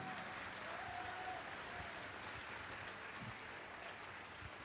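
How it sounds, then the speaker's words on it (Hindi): Faint, distant applause from a church congregation, a soft continuous wash of clapping that stays at an even level with no speech. "ताली आपकी बड़ी छोटी है।"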